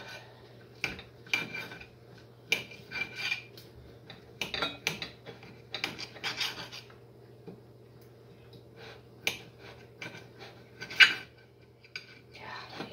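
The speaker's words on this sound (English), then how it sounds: "Well, I'll give Misha this plate that I was cutting up on. Just try to cut that up a little bit" Light scraping and tapping of a knife against a plate, irregular clinks scattered over several seconds against a low steady hum.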